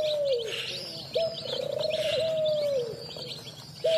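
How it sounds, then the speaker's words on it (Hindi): Pet parrots bathing and drinking in shallow water give clear whistled calls that slide in pitch, mixed with softer chirps and twitters. The calls are fairly close, with no talking. "ये देखे हमारे तोते भी जो अल्हम्दुलिल्लाह नीचे आ गए पानी वगैरह पी रहे हैं"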